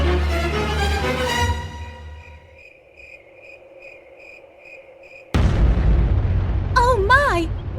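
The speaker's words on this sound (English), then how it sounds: "Looks like an explosion at the atomic test site next door." A sudden loud explosion effect from an atomic test site erupts in a radio drama, following a quieter stretch of steady cricket-like chirping and voices, then rumbling on under rising warbling tones.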